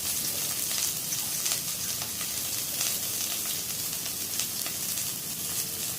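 Onions sizzling in hot oil for a patwadi curry base, a dense, even, crackling hiss that holds steady and close for the whole stretch, with no voices over it.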